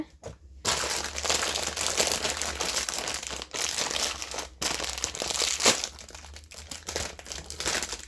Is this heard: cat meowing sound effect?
no